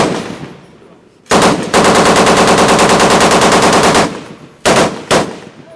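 Bursts of heavy gunfire from a Finnish pre-WWII 20 mm anti-tank rifle, loud and close: one short blast, then a sustained rapid burst of about two and a half seconds, then two more quick single shots, with no talk.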